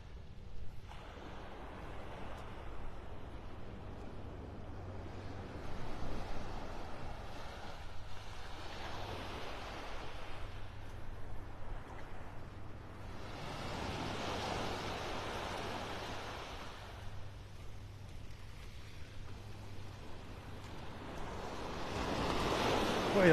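Ocean waves wash steadily onto a beach in North Naples, Florida, with broad surf swells rising and falling in repeated rushes and a louder surge near the end, wind brushing the microphone and no talking.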